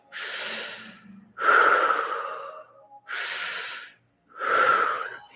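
Four loud, airy breaths during a group breathing exercise. The breaths are drawn through the mouth, alternating between long inhales and exhales with short pauses between them, close to the microphone and with no talking.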